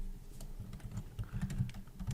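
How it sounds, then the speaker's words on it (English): Someone types on a laptop computer keyboard in a steady run of light, close key clicks and taps with small irregular bursts, no voices present. "There's a guy typing"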